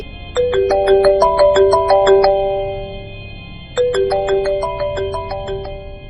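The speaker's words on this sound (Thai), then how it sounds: "เสียงโทรศัพท์ของเขาก็ดังแทรกขึ้นมาเสียก่อน" Mobile phone ringtone rings out alone: a bright, repeating melodic phrase of tones plays once, pauses briefly, then starts again, loud and close.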